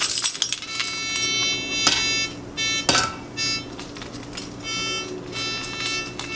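A set of metal keys jangles close by in a few bright, scattered rattles and clinks, with short pauses between bursts and no talking.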